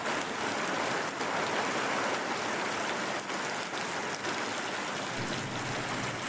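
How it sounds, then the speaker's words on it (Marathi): Steady rain falls around a house, a dense even hiss of drops with water running, continuing without a break and with no voices. "पावसानं गेला सुरुवात आणि आता जाते मी खाली वाहत"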